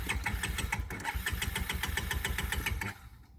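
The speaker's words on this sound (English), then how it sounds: "Turning it on, keys on." A Honda TRX 250 ATV engine cranking over with a rapid, even rhythmic churn, close and steady for about three seconds before it stops without catching.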